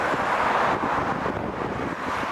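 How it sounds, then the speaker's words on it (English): Strong wind at a road flyover buffets the microphone in a continuous, loud roar that barely changes over the whole stretch, with no talking. "It's extremely windy"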